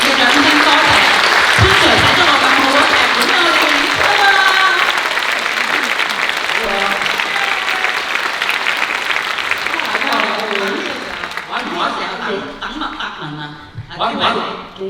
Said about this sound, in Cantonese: 我哋歡迎佢熱烈嘅掌聲